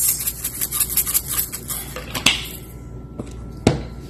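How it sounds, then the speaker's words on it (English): Garlic, onion powder and red pepper flakes are worked by hand into ground beef for Jamaican patties. The mixing gives off a rapid run of soft squishing and scraping against a bowl, then a few scattered clinks. No one speaks. "I'm going to just mix that around lightly, just roughly"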